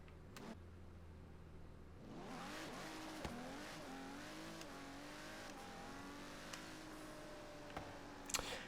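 Video-game car in Forza Horizon 3 accelerating down a drag strip, engine note rising steadily through several gear changes, loud and continuous with no talking.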